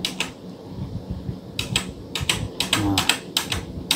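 Keyboard key presses for a Ctrl plus D copy shortcut in Adobe Illustrator, heard as sharp, separate clicks in small clustered bursts over a low background hum, fairly close.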